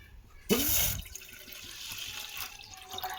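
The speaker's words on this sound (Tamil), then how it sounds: "பாத்திரத்தை வச்சு பாலை ஊற்றிக்கலாம்." Milk poured into a cooking pot to make colostrum-milk pudding gives a short close splashing gush lasting about half a second, then fades to faint trickles and soft kitchen sounds.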